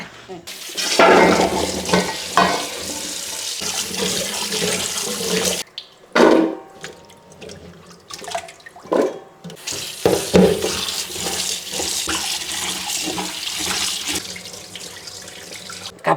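Tap water runs steadily into a kitchen sink while dishes and utensils are washed, with clatter and splashing under ongoing talk and a brief pause midway.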